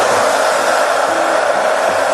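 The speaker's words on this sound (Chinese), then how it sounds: "然后用吹风机把这个鸡蛋表面的水分给它吹干" A hair dryer blows steadily at close range, drying the wet surface of boiled eggs during cooking, a loud continuous whooshing hum with no talk.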